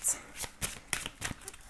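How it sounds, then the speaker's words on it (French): A deck of tarot cards is shuffled close up for a 13-card spread, giving a quick series of four or five crisp riffling bursts. "Donc on va faire le tirage en 13 cartes."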